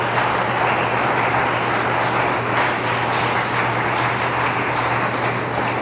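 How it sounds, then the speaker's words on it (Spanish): A church congregation applauds loudly and steadily, a dense wash of clapping that fills the room without a break. "¿Cuántos le pueden dar un aplauso fuerte al Señor?"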